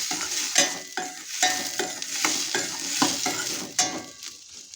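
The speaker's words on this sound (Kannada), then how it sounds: "ಟೊಮೆಟೊ, ಹಸಿರುಮೆಣಸಿನಕಾಯಿ ಏನಿತ್ತಲ್ಲ ಅದನ್ನು ನಾವು ಈ ಹಂತದಲ್ಲಿ ಹಾಕ್ಕೊಳ್ಬೇಕು. ಹಾಕ್ಕೊಂಡು ಈ ಥರ ಚೆನ್ನಾಗಿ ಒಂದ್ಸರಿ ನೀವು ಫ್ರೈನ ಮಾಡ್ಕೋಬೇಕಾಗುತ್ತೆ" Tomato and green chillies fry in a pan with close, rhythmic stirring strokes roughly every half second, each scrape riding over a bright, continuous sizzle with no speech.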